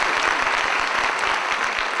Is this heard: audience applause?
yes